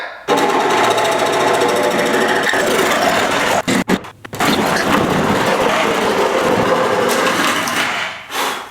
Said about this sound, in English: A steel blade on a sawzall